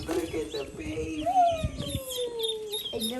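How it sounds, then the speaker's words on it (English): Baby ducks bought as clearance stock peep in a high chorus of chirps, with one long descending peep standing out among the overlapping calls, close by and moderately loud. "Daddy got ducks on clearance."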